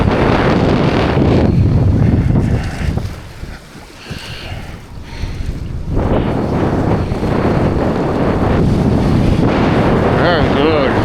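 Strong wind of about 30 knots roars into the microphone while parawing on the water, loud and gusty, dipping briefly in the middle before surging back, with water wash underneath.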